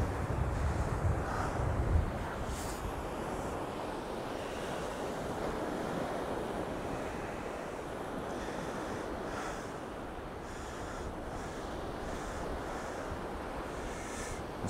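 Cold, blustery wind and surf on an East Coast UK beach at Cleethorpes, with steady roaring wind buffeting the microphone over continuous crashing waves, louder for the first couple of seconds and no talking.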